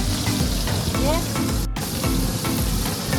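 Shrimp fry in a pan with chilli and ginger-garlic paste, a loud, continuous sizzle crackling up close throughout.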